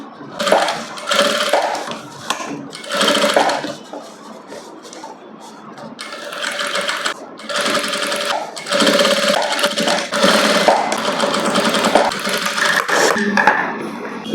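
A sewing machine runs in bursts, top-stitching a princess cut blouse. Its fast mechanical whirring starts and stops several times, close and loud, with brief quiet pauses between runs and no speech.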